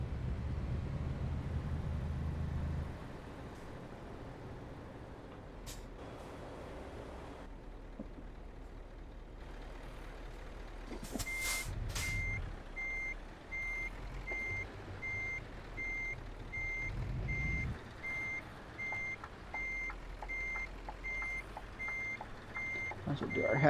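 A truck in Euro Truck Simulator 2 backs up with steady, evenly spaced reversing beeps, joined partway by a hiss of air brakes over low engine rumble.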